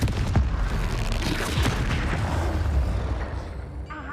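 A Confringo fire spell from Hogwarts Legacy bursts with a deep booming explosion right at the start, followed by a rumbling, crackling tail of debris and fire that slowly fades.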